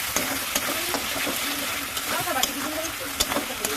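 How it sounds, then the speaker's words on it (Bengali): Spices stirred into chicken frying in a pan, a steady sizzle with scattered scraping clicks from the spoon, close and moderately loud with no talking. "এদিকে আমি এখানে মশলা এখন দিচ্ছি মাত্র, আর এখন নাড়াচাড়া করুন"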